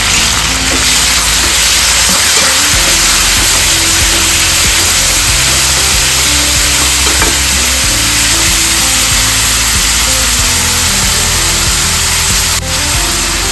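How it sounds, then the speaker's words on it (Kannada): Onions frying with tomatoes tossed into a pan for a rotti and flat-bean palya, a loud continuous hiss with a steady low hum underneath, close and unbroken with no talk. "ಈರುಳ್ಳಿ ಫ್ರೈ ಆಗಿದೆ ಸ್ವಲ್ಪ ಟೊಮೊಟೊ ಹಾಕ್ಕೊತಾ ಇದ್ದೀನಿ"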